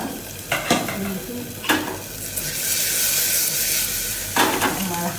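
Bottle gourd being stirred in a pan with mung dal and bay leaf, a steady frying sizzle under several scraping stirs of a spoon, close and moderately loud, with no talking.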